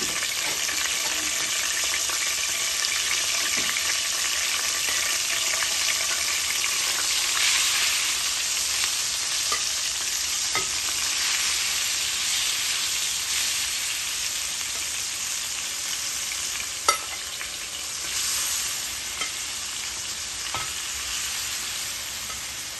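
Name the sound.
prawns frying and sizzling in a pan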